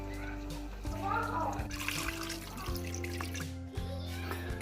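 Water is poured over a beef roast in a pot, giving a steady, soft splashing and trickling against a low, droning background hum.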